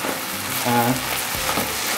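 Beef, fried tofu and vegetables stir-fried with rice vermicelli in a wok, hissing and sizzling steadily up close with brief scraping stirs.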